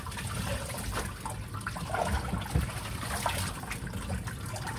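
Water trickles and sloshes steadily as laundry is rinsed in a washing machine, a continuous close liquid wash with small splashes and no talk.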